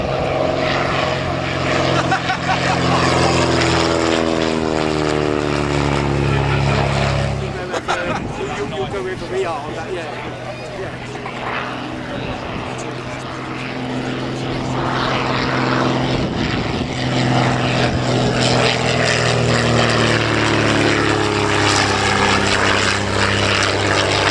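A vintage propeller aircraft drones loudly overhead at a flying display at Old Warden, its engine pitch swelling and shifting as it passes. A commentator's voice and crowd chatter carry over the engine noise.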